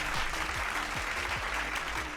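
Studio audience applause fills a live talk show's return from break, a dense, steady burst of clapping at moderate loudness with no voices over it.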